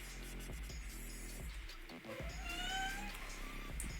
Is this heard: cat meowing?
yes